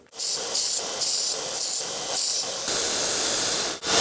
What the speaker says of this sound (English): now we'll just take it on the belt grinder and clean this up a little bit